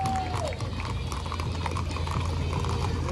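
Rapid clip-clop of prancing horse hooves on pavement at a veterans parade, continuous and lively, heard amid outdoor crowd noise and a passing engine.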